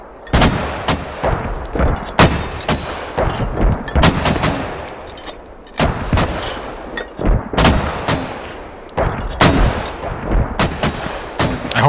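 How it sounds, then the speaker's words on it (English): An insurgent artillery strike in the video game Squad pounds down as a relentless barrage of loud, sharp blasts, dozens of impacts in rapid irregular succession with rumbling tails, close and continuous throughout. "insurgent artillery strike."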